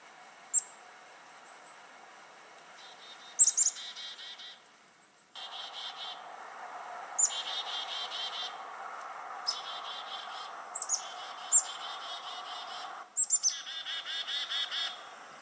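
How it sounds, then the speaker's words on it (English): Black-capped chickadees calling to one another in a group, with repeated bright chickadee-dee-dee phrases in several clear bursts over a steady chorus of softer twittering, fairly close and with no voices. "And there's the other black-capped chickadee sound. That's the one they make when they're in a group and they're talking to each other."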